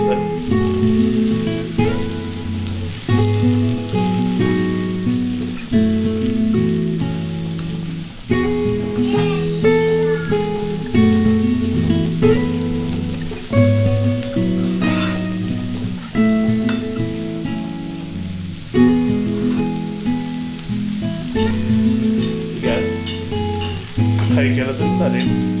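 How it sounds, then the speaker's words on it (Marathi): Chopped seasonal wild greens (kolu ranbhaji) sauté in oil over a low flame, giving a soft, steady sizzle that sits under prominent background music. "आता ती थोडी तेलावर परतून घेतात."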